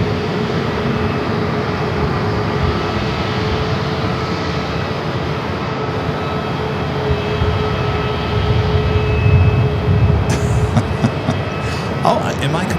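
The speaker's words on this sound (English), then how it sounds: "An old U.S. Airways A319" An aging US Airways Airbus A319, operating as an American Airlines flight from Fresno, arrives on runway 25 left at Phoenix Sky Harbor: a steady broadband jet roar with a low rumble throughout, continuous and fairly loud, with a brief clatter near the end.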